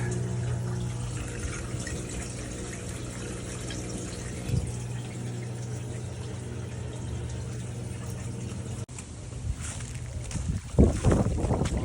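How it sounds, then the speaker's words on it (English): Washing machine draining water during laundry while boondocking, a steady mechanical hum with tonal motor drone and rushing water, running continuously and close, with a brief dip and louder sloshing near the end. "draining probably for one of the last times, and probably will start spinning to dry everything off"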